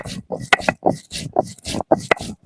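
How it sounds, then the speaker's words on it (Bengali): Spices are ground by hand for a pigeon curry: close, rhythmic rubbing and scraping strokes, about two per second, with short pauses between them. "আমি মশলাপাতি বেটে নেব"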